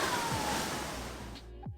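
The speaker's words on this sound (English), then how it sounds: "As waves crash into a narrow inlet, they create a thunderous roar that resonates through the surrounding cliffs" Ocean waves crash into the narrow Thunder Hole inlet among cliffs on the rugged Maine coast: a dense, continuous roaring wash of surf that fades slightly toward the end.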